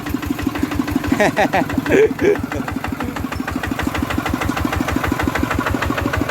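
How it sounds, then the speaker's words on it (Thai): A ten-wheeler truck engine rumbles steadily nearby, its low rhythmic chugging continuous throughout while someone talks over it. "รถสิบล้อมา"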